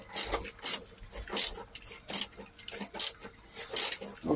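A fitting on a koi pond filter is tightened by hand, a series of about seven short rhythmic ratcheting or rasping twists, close and fairly quiet.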